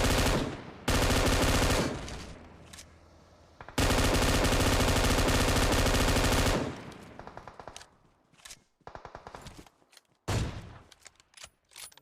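Long bursts of rapid automatic gunfire, loud and close, are fired at a vehicle in a shooter video game, broken by short pauses and followed by scattered single shots and a final quick burst.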